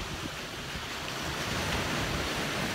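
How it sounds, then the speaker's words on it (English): Ocean waves wash in a steady, continuous roar of surf with wind noise, no distinct breaks standing out, heard alone without voices. "there's no big waves right now, but in a minute there'll be some big waves"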